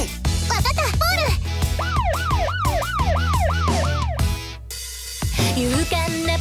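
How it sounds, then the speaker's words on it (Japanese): A cartoon police car siren wails in a children's song, a rapid rising-and-falling electronic tone repeating over bouncy music, with a voice nearby. "パトカーのサイレン"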